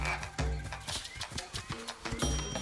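Frogs croak repeatedly in the Zelda: Echoes of Wisdom game, a series of bright, close calls with a soft voice heard underneath.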